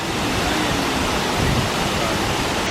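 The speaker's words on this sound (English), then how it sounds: "As you can hear, we're getting closer to the waterfall" A huge waterfall roars nearby on a lake outing in Japan, a loud, steady, unbroken rush of falling water filling the whole clip with no speech over it.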